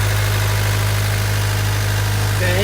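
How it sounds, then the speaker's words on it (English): A 1998 Honda Civic engine idles smoothly, giving a steady, even, close-up hum with a low constant drone and no change in pitch across the short stretch. "The engine is really smooth."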